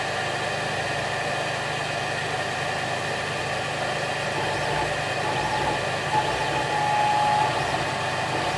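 Mr Carve M1 Pro laser engraver with its rotary chuck turning a brass piece, a steady mechanical hum with tonal whine and slight vibration, continuous and unchanging, no voices.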